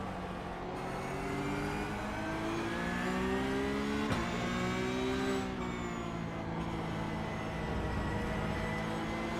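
A steady mechanical whine from a race car differential in the iRacing sim, with rising and falling tonal pitch over a low engine drone, continuous and fairly close, no talking.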